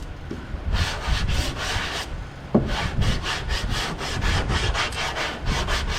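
Hand sanding of body filler on car bodywork, rhythmic back-and-forth abrasive strokes, close and steady, with a brief pause before the strokes resume at a quicker pace.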